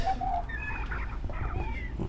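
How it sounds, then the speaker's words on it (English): Birds chirping and calling in an indoor hydroponic garden in the game Bernband, several short tweets and trills scattered over a low steady ambient hum. "I can hear lots of birds"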